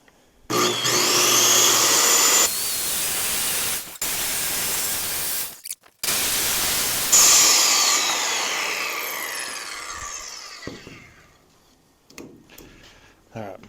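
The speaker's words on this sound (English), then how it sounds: "So just use my circular saw" Circular saw cutting through wood for a low-profile roof build, loud whining bursts of cutting broken by brief pauses, the blade spinning down at the end with quieter handling noises.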